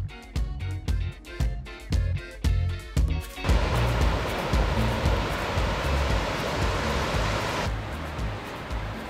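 A clear mountain stream flowing through Wolseong valley on a flat forest trekking trail in Geochang. Rhythmic thumps open the scene, then a loud, steady broadband rush of water takes over before easing slightly near the end.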